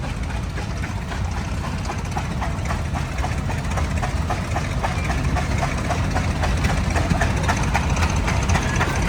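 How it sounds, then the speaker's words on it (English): A steam traction engine belted to a Prony brake dynamometer at an outdoor farm show runs with a steady rhythmic chuff and low mechanical rumble, loud and continuous throughout. "They're just belting up the steamer here onto the Prony brake, the dyno."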